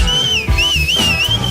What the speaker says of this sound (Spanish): ¿Viste mis chiflidos?